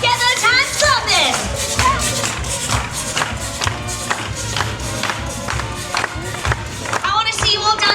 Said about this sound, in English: Let's get those hands clapping.